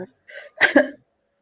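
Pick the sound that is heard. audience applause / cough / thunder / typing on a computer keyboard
cough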